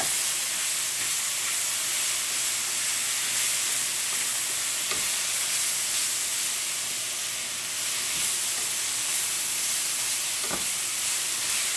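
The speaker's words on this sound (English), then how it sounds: "let's just go ahead and fry up just a little bit more" Fajita vegetables frying in a pan: a loud, continuous, close sizzle and hiss that holds steady throughout, with a few faint stirring knocks underneath and no speech.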